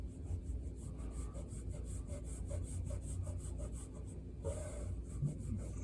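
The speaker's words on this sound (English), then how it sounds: "I'm going to erase all the lines that are in the middle of this shape" A pencil eraser rubs out lines on drawing paper in quick, even back-and-forth strokes, soft and close, with a short pause and a final burst near the end.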